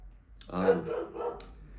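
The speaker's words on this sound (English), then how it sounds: "There's my dog, Charlie." A pet dog gives a short burst of two or three close barks indoors, loud and sharp, with nothing else heard.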